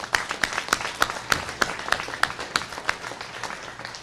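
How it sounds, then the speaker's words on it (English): A small group claps in a fast, steady rhythm of about three sharp claps per second at an event about Florida's home hardening tax incentive, with no talking over the clapping. "y'all give a round of applause"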